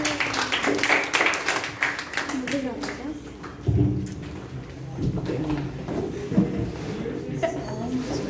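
At a youth leadership programme meeting, an audience breaks into scattered clapping that thins out after a few seconds as voices carry on speaking.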